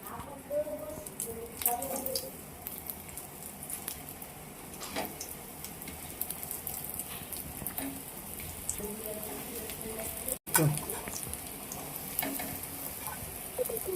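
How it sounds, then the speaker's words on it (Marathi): Cutlet tikkis made from split-milk paneer shallow frying in hot oil on a tawa, a steady sizzling crackle running throughout with occasional clinks, talk heard faintly over it. "तर आपण हे कटलेट शालो फ्राय करून घेणार आहे तर तेल इथे गरम झालेलं आहे आता एक एक टिक्की यावर ठेवायची"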